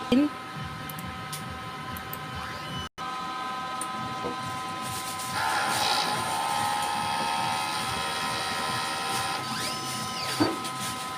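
A DTF printer runs with a steady mechanical hum and tonal whine, its print carriage sliding back and forth with occasional whirring sweeps and clicks.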